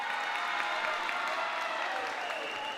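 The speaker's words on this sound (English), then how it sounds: "Fan from Moorhead gets a nice round of applause as we're back to action." Crowd at a high-school volleyball match in a gym gives a warm round of applause, dense steady clapping with some voices mixed in, holding evenly throughout.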